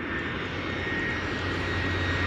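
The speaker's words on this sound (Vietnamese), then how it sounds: "Trên đó sẽ có một máy bay hạ xuống đường băng." An airplane lands on the runway at Penang International Airport, giving a loud, steady, broadband roar of aircraft engines that holds unchanged throughout.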